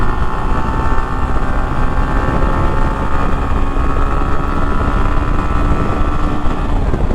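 A Hero Glamour X 125 motorcycle rides along a city road in Moghbazar, its engine a constant, loud drone blended with heavy wind rush, with no voices heard.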